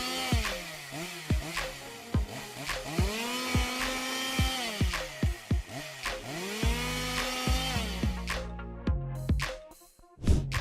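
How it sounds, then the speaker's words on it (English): A chainsaw cuts through 18-inch-diameter logs in a dense forest, its engine revving up and dropping back in repeated cycles, a loud, close, buzzing whine that bogs down in the wood, then cuts off near the end. "chainsaw is a powerful machine that is trying its hand at cutting through 10 logs, each 18 inches in diameter and 12 feet long."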